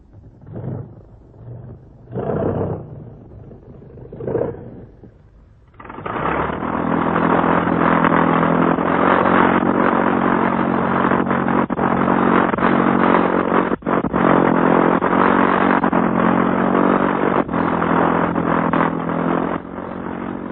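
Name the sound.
flying boat aircraft engines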